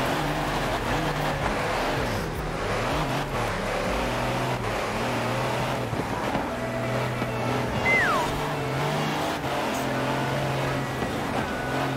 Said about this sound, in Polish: Fajnie wygląda jak te ciężarówki się rozbijają, nie?